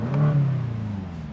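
A BMW M5 Competition engine revs sharply once, loud and close, then settles into a steady lower hum that fades slightly.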